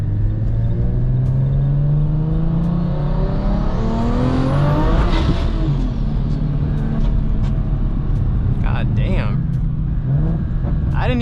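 A Gen 1 BMW B58 engine with a big single turbo, running over 40 psi on a stock motor, revs hard under boost. A loud, rising engine roar sweeps upward and then falls back, with turbo hiss and excited voices speaking over it.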